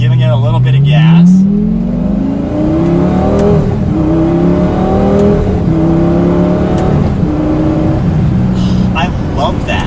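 A Lamborghini Gallardo with the E-Gear gearbox in sport mode revs hard as it accelerates. The engine note climbs steadily in stepped surges through the gears, loud and close, with a low rumble underneath.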